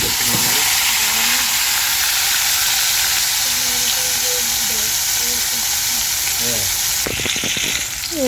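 Fish fries loudly in a poorly washed pan, a dense, continuous sizzling hiss close up, while voices talk over it throughout and a brief clatter breaks in near the end.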